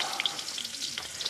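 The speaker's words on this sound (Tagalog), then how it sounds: "Igasa na dahil walang bawang at sibuyas." Ginger sizzles and spits in hot oil in a pan, sautéed in place of garlic and onion for a simple papaya, moringa and sardine dish; a steady close crackle with small pops and no talking.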